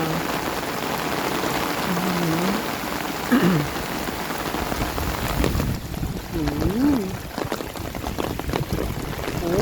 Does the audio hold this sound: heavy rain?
yes